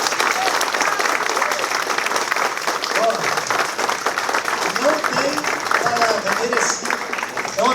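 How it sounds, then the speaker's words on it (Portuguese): A crowd at an entrepreneurship talk for a fight team applauds a grand master in martial arts with dense, steady clapping that holds for several seconds, while voices talk and call out underneath. "Uma salva de palmas para ele."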